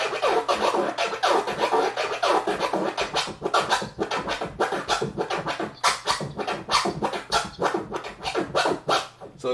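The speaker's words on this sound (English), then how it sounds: "So here's that 2 click." Two-click DJ turntable scratch on a record, fast rhythmic bursts of scratchy, chirping record sound repeating in quick succession over a low beat, loud and close with no talking.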